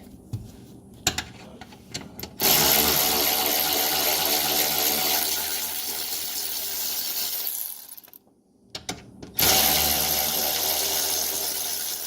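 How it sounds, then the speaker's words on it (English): A Milwaukee power tool loosens bolts under a C7 Corvette while fitting carbon fiber braces. Loud sustained whirring bursts play up close, with a short pause between them and a few clicks beforehand. "Loosen this one here. Make it quicker to remove it. Use my Milwaukee."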